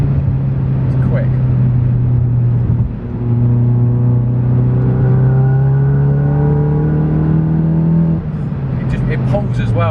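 A 500bhp VW Golf GTI accelerates hard up the rev range. Its loud engine note climbs steadily, with a brief dip partway through and a sudden drop near the end.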